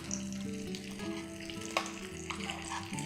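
Chutney tipped into hot tempering in a pan for ginger pachadi, a steady loud sizzle and crackle of oil running throughout, with a few brief clinks near the middle.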